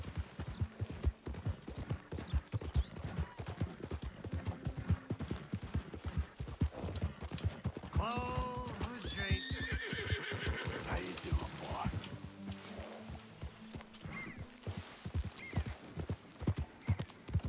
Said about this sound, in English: Lost control of the horse for a minute there.